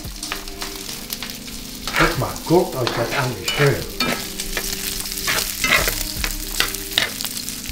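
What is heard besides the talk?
frying in a pan for spaghetti carbonara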